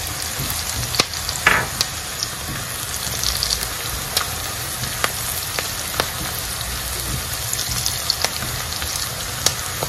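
Carrots tipped into a hot pan of egg sauce base sizzle loudly and steadily, with a few sharp clinks and scrapes of a utensil against the pan cutting through the continuous close-up frying hiss.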